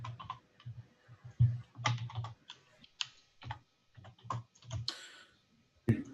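Rapid irregular clatter of typing on a computer keyboard while entering an email, close and fairly loud, in short bursts with brief pauses between keystroke runs, no voices.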